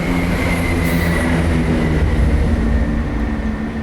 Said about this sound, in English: Oh no, you've got to wait for the train.